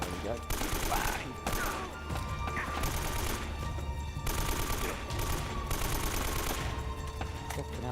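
Gunfire in the video game Uncharted: Drake's Fortune comes as dense bursts of rapid shots and fusillades, loud and continuous with short gaps, layered over game sound effects.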